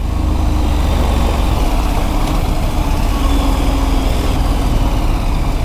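A KTM Super Adventure 1290 motorcycle threads through heavy EDSA traffic, its engine droning loud and close in a steady, unbroken roar mixed with surrounding road and vehicle noise.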